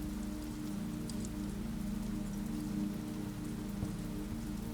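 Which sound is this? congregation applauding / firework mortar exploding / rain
rain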